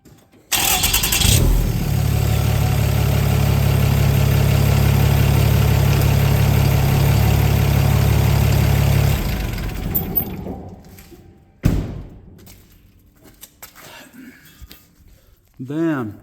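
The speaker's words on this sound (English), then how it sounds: "You just use the power steering to push the hub out" A RAM truck engine cranks and runs at a steady, loud idle while the power steering pushes a stubborn hub out of the steering knuckle. The engine then quiets, and a single sharp crack follows as the hub breaks free, with faint scattered noises afterward.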